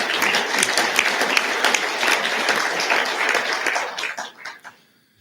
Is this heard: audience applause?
yes